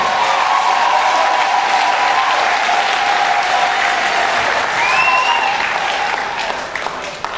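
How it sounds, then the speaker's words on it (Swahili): Audience at a church sermon clapping together in sustained, loud applause that holds steady for several seconds, then thins out and fades near the end. "Wewe nisaidie kupiga makofi hata kama hautaki."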